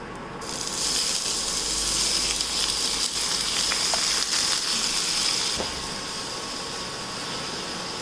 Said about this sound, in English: Now I'm going to be adding finely chopped onions into this.